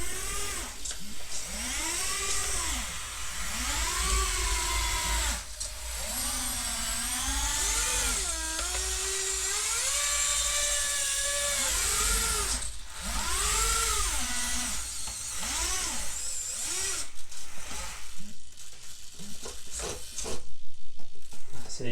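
Whining servo motors on a Bruder Cat telescopic handler model fitted with a conversion kit, rising and falling in repeated pitch sweeps as the arm moves, close and steady with a constant background hum throughout.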